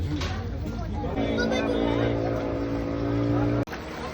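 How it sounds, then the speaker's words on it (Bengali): A boat ride on open water, with a steady engine drone and water noise rising into a sustained hum before cutting out abruptly near the end, while people talk over it. "আমরা এখন বসে গেছি নৌকোতে আর যাচ্ছি রাইড করতে একটু"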